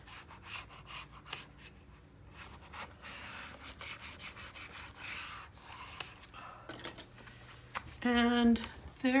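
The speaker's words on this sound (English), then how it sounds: "And then I'll burnish and make sure that I get this down" Paper is burnished down into a Stamperia Fortune mini album, giving soft close rubbing and scraping strokes, followed by a voice at the end.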